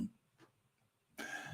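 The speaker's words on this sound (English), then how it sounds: "coughing a bit too much now" A single person's cough, a short throaty burst at the start, then a fainter one, followed by a louder, rougher cough or throat-clearing toward the end, close to the mic with no talking.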